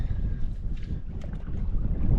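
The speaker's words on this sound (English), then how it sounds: "I am paddling over to the" A canoe moves through water on a windy river with low, rumbling wind buffeting the microphone throughout, faint splashes and knocks suggesting paddling.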